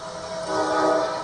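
A commuter train passes outdoors at a political rally, a steady rumble building louder toward the middle and end of a short stretch with a sustained horn-like tonal band, no talk over it.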